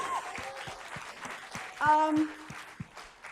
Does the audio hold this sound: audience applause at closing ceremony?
yes